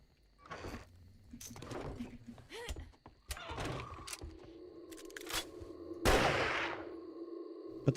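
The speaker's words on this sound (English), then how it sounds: "the rifle should be louder" Sharp rifle shots in a zombie survival video game, several separate reports spread across the stretch with a loud burst near the end, mixed with game effects and a person talking.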